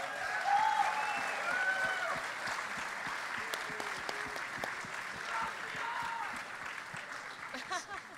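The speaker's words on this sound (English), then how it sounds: "So big round of applause for the Riot team." An esports audience at a League of Legends tournament final gives a sustained round of applause, dense clapping that stays loud and then slowly thins toward the end.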